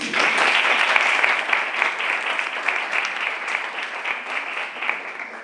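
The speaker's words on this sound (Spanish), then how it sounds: "Un aplauso para él." Sustained applause from a room full of people at a poetry reading in Albolote, Spain, steady and fairly loud throughout, gradually thinning a little toward the end.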